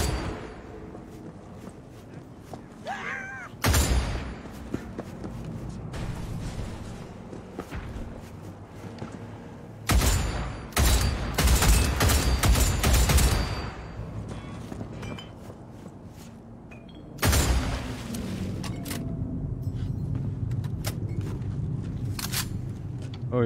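Gunfire in the video game Cyberpunk 2077: several loud, sharp shots at about 4, 10, 11 and 17 seconds, with dense bursts of noise, over steady game ambience and muffled thumps.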